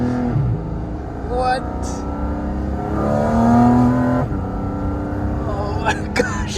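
A Porsche GT4 RS engine revs at about quarter throttle, rising and falling in close, loud bursts while people react and talk over it.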